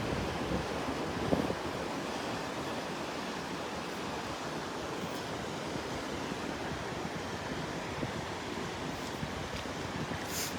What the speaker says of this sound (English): Try to get out past where the waves are breaking too